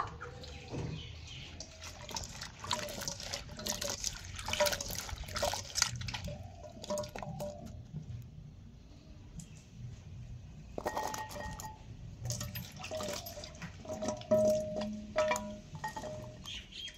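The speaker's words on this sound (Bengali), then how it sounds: "এবার আমি এই আমগুলোকে ভালো করে ধুয়ে পরিষ্কার করে নেব" Chopped mango pieces being washed in water, with soft splashing, dripping and sloshing as the fruit is rinsed by hand, intermittent and close, with faint clinks and no speech.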